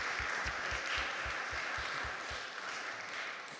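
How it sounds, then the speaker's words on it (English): Audience applause at an evening full council meeting, a steady dense wash of clapping held at even loudness for nearly four seconds, with a faint thudding pulse underneath. "If you clap a bit longer, I won't have to say very much more."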